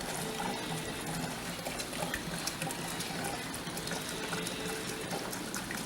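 Water poured steadily into a John Deere B tractor, a continuous broadband splashing and gushing that stays fairly even and close throughout, with no one speaking.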